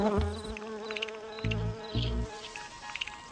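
Solitary bees collecting pollen and nectar from garden flowers, their buzzing coming in short close bursts with pauses between, rising and falling as they move from bloom to bloom.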